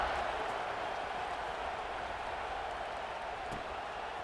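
A football stadium crowd buzzes with a steady, dense roar right after a score, sustained at an even level throughout with no distinct cheers standing out.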